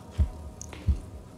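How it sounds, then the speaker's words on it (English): A game's heartbeat effect in the Medusa Labyrinth video game throbs twice, a pair of low, soft thumps spaced under a second apart over faint ambient hum, with no speech. "There's that heartbeat again."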